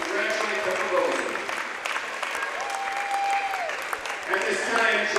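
A gym crowd at a basketball game applauds and cheers for a player reaching her 1,000th career point, steady clapping with voices and whoops mixed in, filling the hall for several seconds.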